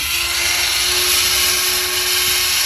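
A Dremel rotary tool whines at a constant high pitch while polishing the blades of a Schrade Old Timer 25 OT pocket knife with metal compound, loud and close throughout with no voices.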